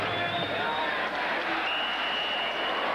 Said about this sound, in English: And the thunderous crowd is getting into it